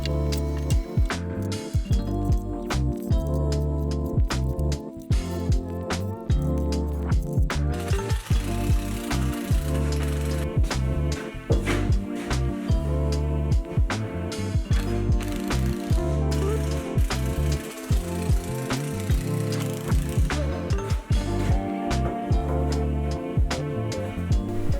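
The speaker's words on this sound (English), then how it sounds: "I'm screwing this board into what will be the top of the bench to act as a middle support for the bench surface." Drill driver running screws through a board into a wooden potting bench top as a middle support, a continuous loud mechanical whir and ratcheting clatter with repeated start-stop bursts close up, no talk.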